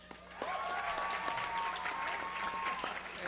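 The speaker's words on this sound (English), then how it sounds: "let's go ahead and give one more round of applause to all of our English-speaking guests" Audience applause at an anime convention opening ceremony, a fairly faint, sustained patter of many hands swelling in after a moment, with a thin steady tone running underneath.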